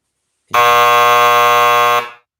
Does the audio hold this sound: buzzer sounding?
yes